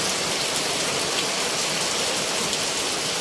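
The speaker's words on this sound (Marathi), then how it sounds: "पावसाला सुरुवात झाली एवढी जोरात आली" Dense, steady downpour of heavy rain at night during a storm, a constant loud hiss with no pauses or voices.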